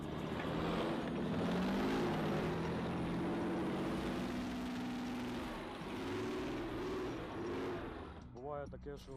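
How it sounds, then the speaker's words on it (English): An old Swedish armored personnel carrier driving in the Kursk region, a continuous droning engine rumble that holds steady for several seconds before fading out at the end. "These old Swedish armored personnel carriers are kind of a taxi for infantrymen in the Kursk region"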